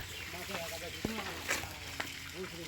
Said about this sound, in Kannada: ಆ ಕಡೆ ಮೀನು ಬೇಯ್ತಾ ಇದೆ